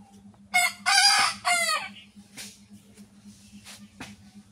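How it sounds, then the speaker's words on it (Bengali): A rooster gives a loud, close crow followed by softer clucks and squawks, over a steady low hum in the background. "অনেক বড় হয়ে গেছে মুরগটা।"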